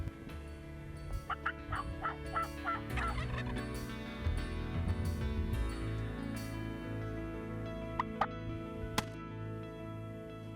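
Wild turkey gobbler gobbling outdoors near the crest of a hill, with several bursts of rapid, rattling gobbles from more than one bird over a steady background, heard at moderate distance and not covered by talk.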